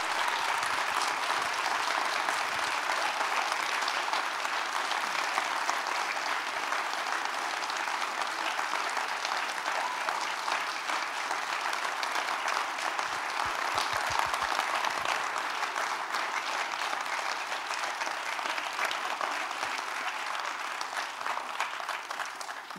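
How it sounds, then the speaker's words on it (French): Sustained audience applause at a conference by conductor Zahia Ziouani in Moissy-Cramayel, a dense steady wash of clapping from a sizeable crowd lasting throughout, even in loudness with no talk over it. "Je crois qu'on peut applaudir encore très fort Zaya."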